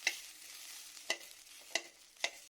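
Onions and dried red chillies fry in oil for a spicy chutney, with four sharp spatula scrapes evenly spaced over a soft, steady sizzle, close and fairly quiet, with no voices.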